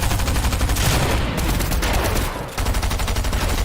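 Rapid, continuous gunfire in the Fortnite video game, a dense, loud barrage of shots with a brief lull in the middle before the firing resumes.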